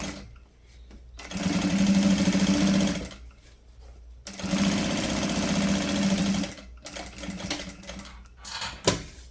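A sewing machine runs a topstitch seam on a fabric cube-shaped toiletry bag panel, humming and chattering steadily in two long close bursts separated by a short pause, then a few brief stop-start stitches.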